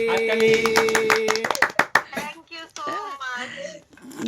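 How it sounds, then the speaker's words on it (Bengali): Hand clapping at a birthday celebration, right after a birthday song, with a burst of claps in the first half, then children and adults talking over the rest. "আমরা এখানে ক্ল্যাপ করে দিই হাততালি"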